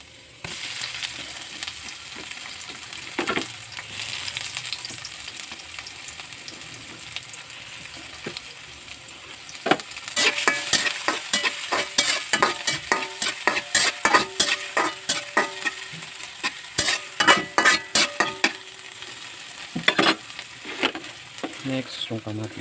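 Garlic and onion fry in a pan with a steady sizzle that grows busier partway through, broken by repeated clinks and scrapes of a utensil stirring, with no talk.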